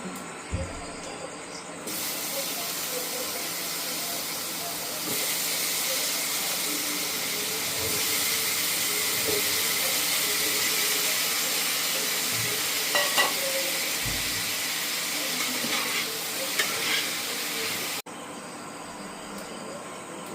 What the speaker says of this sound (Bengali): আলু কলাটা এই মাছের তেলটাতেই ভেজে নেব